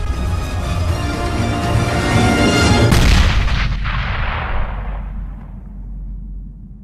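A grenade detonates in a video game with a loud, deep blast about halfway through. It cuts over steady background game noise and leaves a long rumbling decay that fades out.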